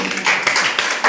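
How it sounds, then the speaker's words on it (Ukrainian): Wedding guests applaud a saxophonist, dense steady clapping from a crowd filling the room, with some voices mixed in. "Оплески на підтримку саксофоніста"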